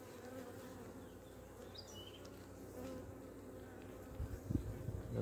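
Honeybees buzz steadily at an open beehive with frames exposed during a hive inspection, a dense even hum that swells a little louder toward the end, with a few soft handling knocks.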